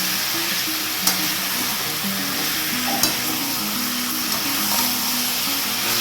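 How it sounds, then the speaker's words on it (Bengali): Chicken pieces with ginger, cumin, chilli and coriander stirred in a frying pan, a loud continuous sizzle with scraping strokes and a few sharp clinks of the spoon against the pan. "দিয়ে মাংসটা ভালো করে নাড়তে থাকি।"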